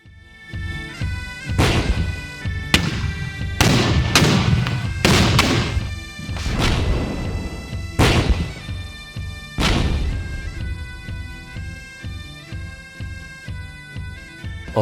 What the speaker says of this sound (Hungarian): Ez egy 6 fontos távoli ágyú.